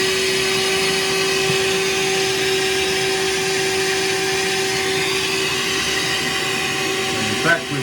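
A vacuum draws antifreeze water out of an old rusty bathroom radiator aboard a narrowboat, giving a loud, steady droning whine with a constant hum that runs unbroken through the whole stretch.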